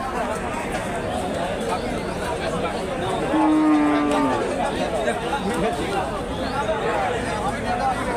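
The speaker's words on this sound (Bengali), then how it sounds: "আপনাদেরকে আমি আরও কিছু গাভী গরু দেখানোর চেষ্টা করতেছি।" A native dairy cow moos once amid the constant babble of a busy crowd at a livestock market, with people talking throughout.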